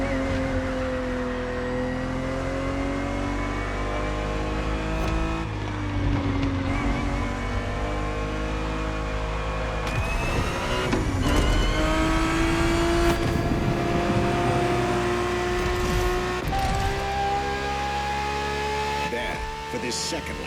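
A Ferrari 365 GTB4 race car in The Crew Motorfest drones with a sustained engine whine, rising and shifting in pitch as it accelerates through gears, under a narrating voice.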